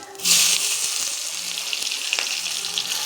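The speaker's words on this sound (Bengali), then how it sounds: "পেঁয়াজটা সুন্দর করে লাল লাল করে আমি ভাজা করে নেবো" Chopped onion goes into hot oil with cumin for egg curry, bursting into a loud, steady hiss and sizzle that holds evenly to the end.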